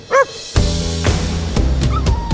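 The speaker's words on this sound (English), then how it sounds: "The dog's just sitting here whining." A dog whines with short high yips while heavy rhythmic music thumps underneath, the whimpers brief and near, mostly masked by the loud score.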